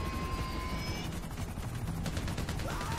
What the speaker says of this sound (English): More choppers coming from behind us